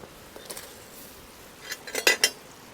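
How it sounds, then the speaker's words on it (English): Pieces dropped into a pot of Thai chicken curry, with a few light clinks early on, then a brief cluster of sharper metallic clatters of utensil and cookware near the end, close and alone. "There, we'll chuck all them in"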